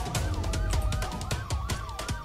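Police car siren in the video game Brick Rigs, wailing steadily and loud through the whole stretch, its pitch sweeping up and down in repeated cycles over a constant rumbling engine and game noise.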